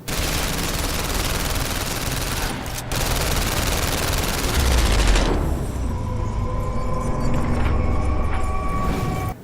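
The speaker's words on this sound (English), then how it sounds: "you're surrounded on the highway and must shoot your way to survival." Sustained loud gunfire from a highway shootout in the PlayStation VR Worlds game, rapid automatic bursts running nearly continuously, with a brief gap near the three-second mark and heavy booming low impacts midway.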